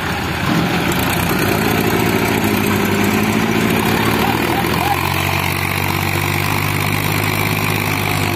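A heavy tractor engine drones loudly and labors with reversed tires, towing a gravel trolley stuck in mud, its pitch sagging as it strains under load, running continuously throughout.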